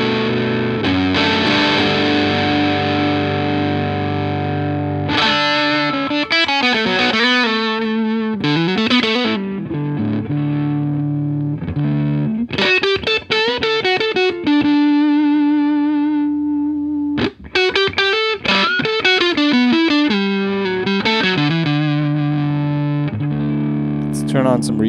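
Electric guitar riffs and sustained chords through a Pete Cornish P1 overdrive pedal, sustain set on 2, with a gritty tone, loud and continuous, with short pauses between phrases.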